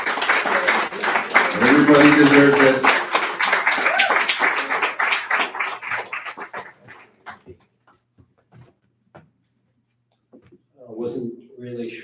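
Audience clapping for a poet at a poetry reading night, a dense burst of applause lasting several seconds before thinning to scattered claps, followed by a speaker talking.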